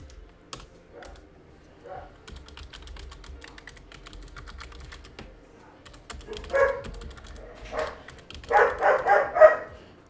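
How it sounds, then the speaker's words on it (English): A dog barks indoors in a run of several sharp barks near the end, with a few earlier isolated yips, over soft computer keyboard typing. "And they let the dog back in, so it might get a little bit noisy."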